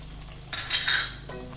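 A spoon stirs minced meat with onion and spices in a pan for martabak filling, giving a brief burst of scraping and light clinks midway against a quiet kitchen background.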